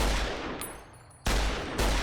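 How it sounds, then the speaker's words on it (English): Heavy gunfire in the Fallout New Vegas video game booms in loud, abrupt blasts, one burst fading into a brief lull before two more sharp shots crack in close succession. "the sound of gunfire is disturbingly common around here"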